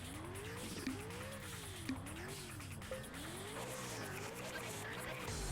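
A rally car in the Bloody Rally Show racing game drifts through corners, its engine tone rising and falling in steady waves while the tires squeal and skid, loud and close.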